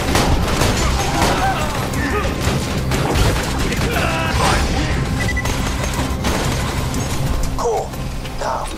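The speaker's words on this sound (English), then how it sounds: "Just so many goddamn explosions!" Dense, loud barrage of gunfire and explosions from the video game Borderlands 2, booms and rapid shots overlapping continuously with game effects, a voice talking over parts of it.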